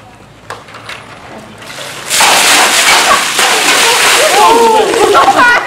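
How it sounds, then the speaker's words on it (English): Buckets of ice water pour over teachers at a middle school Ice Bucket Challenge, a sudden loud splashing gush that sloshes on for several seconds, preceded by a quieter moment and crowd noise. "pour freezing water over their heads in front of the entire school"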